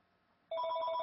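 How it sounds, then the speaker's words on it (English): A telephone bell starts abruptly after a moment of near-silence, then rings loudly and steadily with a rapid trembling rattle, close by and alone. "that's the phone"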